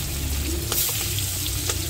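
Hilsa fish steaks fry lightly in hot oil in a wok, giving a steady, loud sizzle throughout. A few sharper pops and crackles break through, and no voices are heard.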